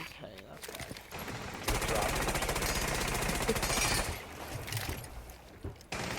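Automatic gunfire in Rainbow Six Siege, a sustained close burst of rapid shots lasting a couple of seconds amid game noise, with a voice speaking briefly before and around it.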